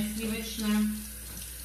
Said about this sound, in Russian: Почему у вас вода льется все время?